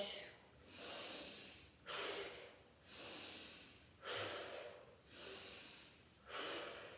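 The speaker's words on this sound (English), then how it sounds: "Inhale through the nose, exhale." Yoga breathing, slow rhythmic inhales through the nose alternating with exhales, about six breaths in a steady cycle, close to the microphone and fairly quiet.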